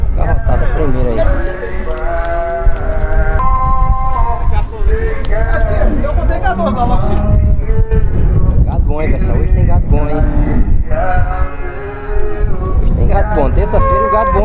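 A cow moos repeatedly at a busy cattle market in Campina Grande, Brazil, loud drawn-out calls mixed with other livestock and people talking nearby.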